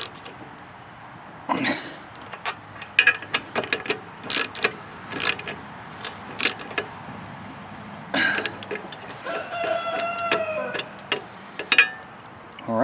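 Bolts being tightened on a Troy-Bilt Storm 10030 snow blower with a 10 HP Tecumseh engine give repeated close metallic ratcheting clicks and taps, with a run of rapid ratchet clicks near the end.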